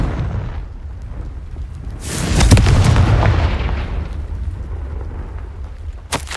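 A fiery spell blast in Hogwarts Legacy erupts into a loud, rumbling explosion that swells and slowly fades, followed near the end by a brief sharp crack.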